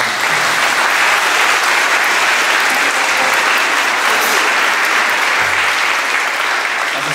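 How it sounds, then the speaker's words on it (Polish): An audience at a Christmas carol concert claps steadily in dense, even applause that holds at full strength for several seconds without talk. "Brawa dla was!"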